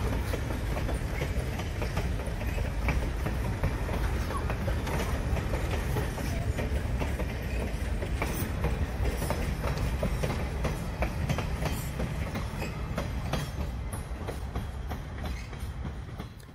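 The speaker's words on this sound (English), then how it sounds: "the train actually goes right by the campground that we stayed at" A train rumbles past close by, wheels clattering in a steady rhythmic clickety-clack over a loud continuous roar that fades slightly at the end.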